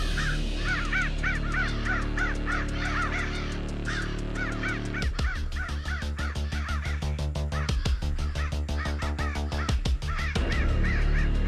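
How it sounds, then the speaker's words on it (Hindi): Crows caw repeatedly in a forest, a steady chorus of harsh calls, with a second bird giving a fast, evenly spaced run of loud calls in the latter half. "कौवा बहुत मंडरा है।"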